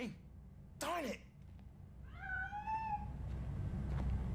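A cat meows in the PS5 video game RoboCop: Rogue City, giving one clear, drawn-out meow beneath game ambience, with a voice briefly heard before it.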